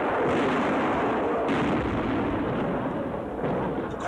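Sustained artillery cannon fire from a war documentary about the 1950 Korean War invasion: dense, continuous booming and rumbling barrage, loud and close, with repeated blasts merging into a heavy roar and no speech.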